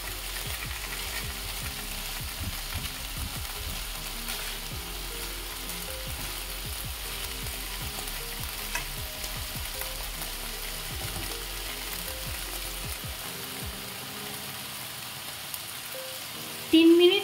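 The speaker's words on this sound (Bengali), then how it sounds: "2 থেকে 3 মিনিট আমি একটু ভেজে নেব চিকেনটা।" Chicken pieces frying in a pan for soup, a long steady sizzle with frequent scraping and turning of a spatula, fairly close; the sizzle drops away near the end before a brief louder clatter.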